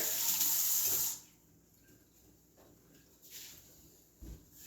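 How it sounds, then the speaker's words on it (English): A kitchen tap runs loudly for about a second while hands are washed during muffin baking, then cuts off, leaving quiet room sound with a couple of small knocks. "We're going to wash our hands too."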